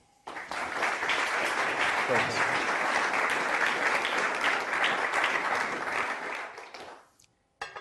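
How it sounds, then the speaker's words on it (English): An audience at a lecture breaks into steady, dense applause that holds for several seconds before tapering off into quiet. "Big round of applause, please."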